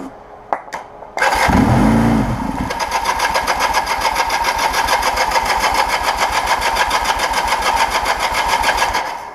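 A 1980 Kawasaki KZ LTD440 motorcycle engine cranks over with a starter whine, catches and settles into a loud, steady running idle that continues close by, with a carburetor fuel-flow fault.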